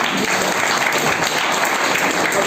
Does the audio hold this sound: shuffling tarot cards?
no